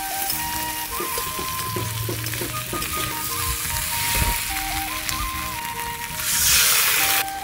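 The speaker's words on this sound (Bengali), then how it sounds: "এবার জল দিয়ে দেবো।" Water poured into a hot pan of fried pointed gourd, potato, fish and spices, hissing and sizzling steadily with a loud burst of spitting near the end.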